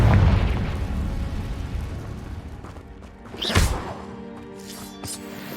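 A Confringo spell explosion in Hogwarts Legacy: a rumbling blast that fades, then a sharp crackling burst with brief ringing tones after it, no talk.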